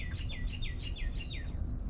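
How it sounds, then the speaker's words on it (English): Birdsong in the survival game Scum: a bird repeats a bright, descending chirping phrase about six times in quick rhythmic succession, clear but moderately distant over a low steady ambient rumble. "Birds are singing, which is always nice."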